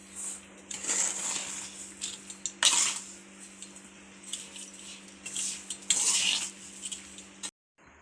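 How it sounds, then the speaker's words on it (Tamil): Rava ladoo mix of semolina, cashews, raisins and sugar being stirred together with a spoon, producing scraping, clinking bursts in several uneven rounds against a low steady hum, fairly close and with no talking. "இப்போ எல்லாம் மிக்ஸ் பண்ணிக்கலாம்."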